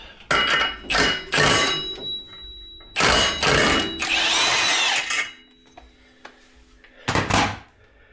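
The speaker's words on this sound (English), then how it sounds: "17mm bolt on the secondary clutch. Run that off with the impact." Impact wrench spinning off a 17mm bolt on a Can-Am secondary clutch, several loud close rattling bursts separated by short pauses, with metallic clinks of the bolt and tools between them.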